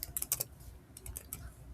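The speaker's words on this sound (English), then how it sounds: "I'm going to type in happy birthday or whatever you want to put in the middle." Rapid keystrokes on a computer keyboard, someone typing a birthday greeting into a banner design, coming in two short bursts of clicky taps with a brief pause between them, close and clear.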